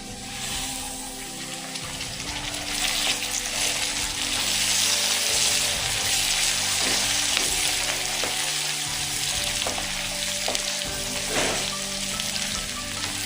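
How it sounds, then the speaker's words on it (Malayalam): Sliced onions and curry leaves sautéing in a pan for beef roast, a continuous loud sizzle with occasional stirring scrapes and small pops, no voices. "ഇനി ഇതൊന്ന് വഴറ്റി കൊടുക്കാം"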